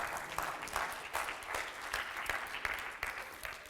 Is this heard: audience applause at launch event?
yes